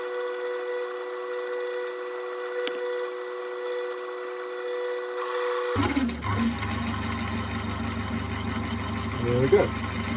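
A mini metal lathe hums steadily, then a louder mechanical whirring takes over as it drills a pilot hole in metal, grinding continuously with a brief scrape near the end.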